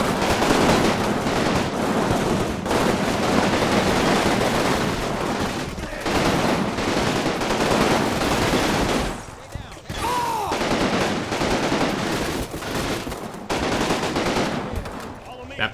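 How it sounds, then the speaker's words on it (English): Sustained machine gun fire roars from a defended position in the wargame Combat Mission: Final Blitzkrieg, a relentless buzzing rattle with brief lulls near the middle and occasional whistling sweeps, loud and layered throughout. "just that continuous buzzsaw of machine gun fire coming down here"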